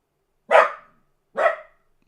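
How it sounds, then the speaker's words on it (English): Dog barking outdoors, two sharp, loud barks close by, spaced about a second apart with silence around them. "we got Max barking"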